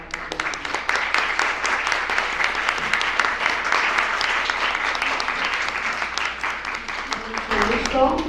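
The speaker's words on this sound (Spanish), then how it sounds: "Un aplauso para la maestra." An audience claps for a speaker at a talk about body shaming. The applause is sustained and fairly close, with crisp individual claps throughout, and a voice comes in near the end.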